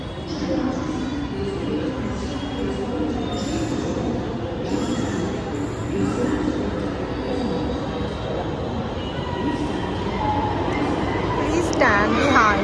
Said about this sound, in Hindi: मेट्रो आलेली आहे